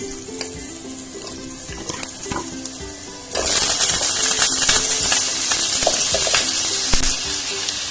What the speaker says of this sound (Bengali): তেল গরম হয়ে গেছে, এখন এর মধ্যে আলুগুলো ভেজে নেব